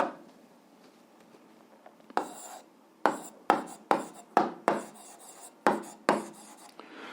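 Pen or pencil writing on paper while working an 8th-grade algebra exercise, heard as a run of short scratchy strokes in bursts, close and fairly quiet, with no talk.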